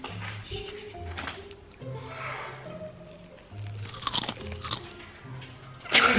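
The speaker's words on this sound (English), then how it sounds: "I'm just chewing." Close crunching and chewing of crunchy food, repeated crisp bites and munching with irregular rhythm, with faint voices and background hum underneath.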